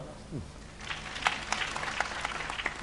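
Audience applause at a live comedy show: after a brief voice, scattered claps break out and build into a loose, uneven patter that stays fairly light and fades without a full roar.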